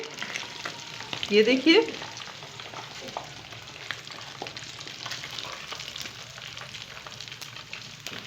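Chicken tikka pieces frying in a pan give a steady, close sizzle with a brief louder scrape of stirring early on, while a voice speaks a few words softly over it.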